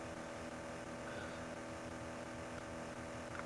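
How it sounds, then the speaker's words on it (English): Car engine noise in the NJ Pocket racing video game, a steady, quiet buzzing drone with a harsh tonal, guitar-like quality that holds unchanged throughout, with no voices over it. "This engine noise is so bloody annoying."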